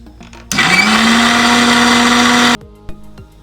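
A kitchen blender grinds coconut, dried chilli and curry leaves into a paste, a loud steady motor whine for about two seconds before cutting off to quiet.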